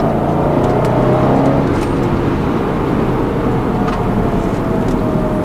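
A 2011 BMW X5 M, stock, accelerating hard, with a dense, steady engine roar and road noise heard from inside the cabin, loud and continuous throughout with no talking.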